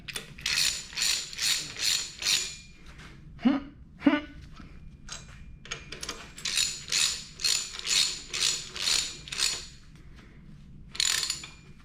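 A ratchet wrench clicks in quick repeated bursts of strokes while long bolts are tightened on a VW engine, close and loud, with a brief pause and a couple of low knocks partway through.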